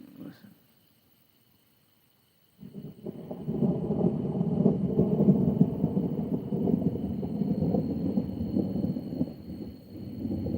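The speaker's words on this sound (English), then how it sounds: "So this might be a big thunder here." Thunder booms from a tornado-warned storm, starting abruptly after a short silence and then rolling on as a long, loud, low rumble that lasts to the end, with no talk.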